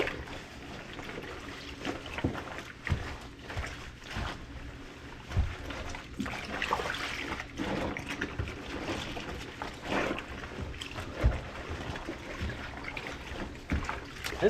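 A rain garment sloshing and churning as it is agitated by hand in a tub of waterproofing solution and water, with irregular splashy swishes and drips continuing steadily throughout.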